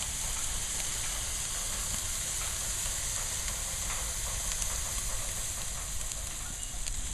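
Thick-cut veal chops with herb marinade sizzle on a hot grill, a steady, dense hiss with faint crackles continuing without pause and no talking.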